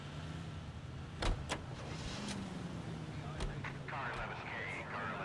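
Car start-up in the video game LA Noire: a couple of short door clunks and clicks, then a low steady engine hum running underneath, with in-game voices and radio chatter over it.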